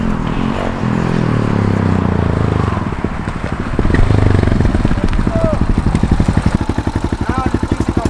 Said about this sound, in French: Le mono comment il tape, tu l'entends à des kilomètres.